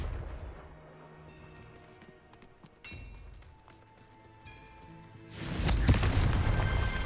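Confringo blasting spell cast in the video game Hogwarts Legacy, a sudden loud fiery burst and rumbling explosion erupting near the end after quieter game ambience with scattered pings and a thump.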